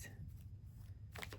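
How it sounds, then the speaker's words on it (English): A large deck of playing cards is shuffled up close, a soft riffling flutter that ends with a sharper burst as the cards fall together. "So I'm going to try to shuffle this as well as I can."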